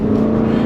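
A Porsche Cayenne S V8 in Sport Plus mode pulls hard on a highway, a loud, close, steady engine drone with no talk over it.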